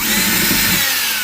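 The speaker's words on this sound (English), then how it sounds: "we have to give it a little drilly drill" A power drill bores into an RC axle part for an Axial AR44 axle setup, giving a short, close, whining burst that holds steady and then eases off. No one speaks over it.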